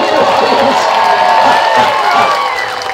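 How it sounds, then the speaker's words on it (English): An audience at a falconry show at a Renaissance festival applauds and cheers steadily, a dense wash of clapping and crowd noise that stays loud throughout before easing slightly at the end. "And Vegas, we have to do this until everyone applauds."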